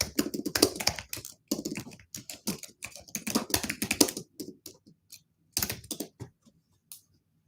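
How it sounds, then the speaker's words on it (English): Someone types a search for heart disease on a computer keyboard: quick, close bursts of crisp keystrokes with short pauses, then a longer gap before a few final taps. No talk. "Let me type in heart disease."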